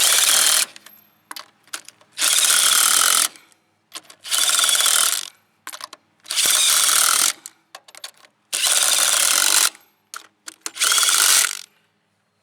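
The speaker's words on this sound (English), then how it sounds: "I got an impact gun, so just make sure it's on tight." A pneumatic impact gun snugs down hand-threaded lug nuts on a 2005 Ford Ranger wheel, firing six loud, close rattling bursts of about a second each, separated by short gaps.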